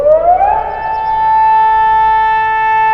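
A city air raid siren wails as it winds up and then holds a steady, loud tone.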